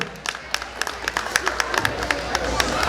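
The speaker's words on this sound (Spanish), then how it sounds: "vamos a brindarle un fuerte aplauso." Wedding guests clap for a named attendee, a busy patter of hands with some distinct close claps, while a few voices murmur faintly underneath.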